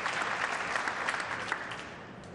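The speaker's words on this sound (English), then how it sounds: "Crowd clapping every shot here" Steady applause from a crowd fills the room after a shot in a 2004 World Pool Championship match between Tony Drago and Efren Reyes, continuous and fairly loud throughout.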